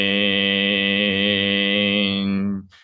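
A single sustained Qigong healing tone, the chant "shin", is voiced as a steady, rich, buzzing hum that holds evenly for over two seconds before trailing off, close and loud with nothing else heard.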